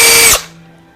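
A small rechargeable battery-operated electric drill whirs loudly up close for a fraction of a second, then cuts off abruptly and winds down into near silence.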